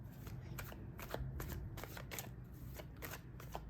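Tarot cards being shuffled and drawn during a Hindi tarot reading, a steady run of soft riffling flicks and slaps repeating in quick bursts over a low background hum, close and fairly quiet.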